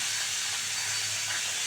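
Cauliflower frying in hot oil in a pan gives a steady, even sizzle and hiss with no pauses, close by and moderately loud, with no talking.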